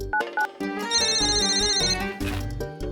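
An electronic phone ringtone plays a bright melodic tune, loud and close, with a sustained high chime in the middle.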